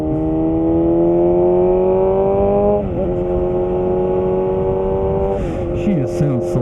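A Suzuki motorcycle engine runs loud and close with a steady, smooth harmonic drone, holding its pitch, dipping briefly around the three-second mark, then shifting again as the revs change near the end.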